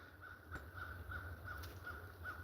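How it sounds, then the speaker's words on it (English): Crows caw repeatedly outdoors in a steady series of harsh calls, the birds fairly close with a constant low background hum beneath them. "I command these crows to be silent over Casey right now in Jesus' name."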